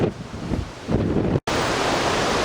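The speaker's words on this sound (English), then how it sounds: "This deck's actually closed because it's too windy" Strong wind roars across the microphone in heavy gusts on the deck of a cruise ship off New Zealand, with a brief dropout before a harsher, steady blast of wind noise.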